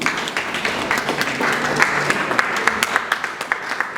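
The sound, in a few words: audience applause for a speaker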